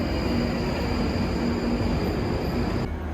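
London Underground tube train running with a steady, loud rumble and a whining hum, continuous throughout, no voices.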